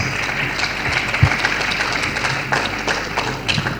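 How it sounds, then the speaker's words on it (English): Conference audience at a midwifery conference in Nigeria applauding, a continuous crowd clapping of moderate loudness with a few sharper individual claps standing out. "A round of applause for her,"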